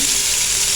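Water poured into a pot of frying chicken for yakhni pulao, a loud continuous sizzling hiss that fills the short moment without any talk.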